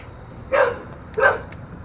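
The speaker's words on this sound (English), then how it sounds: "The neighbor's dog, he's always barking like that." A neighbor's dog barks twice outdoors, each short bark about three quarters of a second apart, moderately distant against quiet background hiss.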